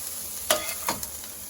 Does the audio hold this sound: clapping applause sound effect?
no